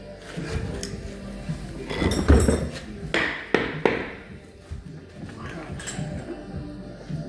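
Metal hammer blows ring out during suspension replacement on an Audi Q5, a few sharp clanks clustered in the middle amid clinking tools and workshop noise.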